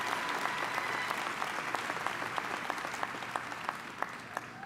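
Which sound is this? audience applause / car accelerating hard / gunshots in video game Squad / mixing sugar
audience applause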